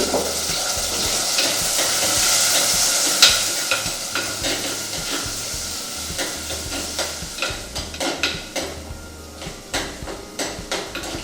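Small shallots and tomatoes sauté in hot oil with fenugreek and mustard seeds for a seer fish curry. Loud steady sizzling opens the sound, then gives way to repeated spoon scrapes and taps against the pan.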